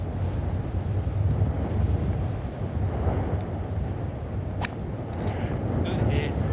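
Strong crosswind on a golf course buffets the microphone with a constant, loud, low rumble.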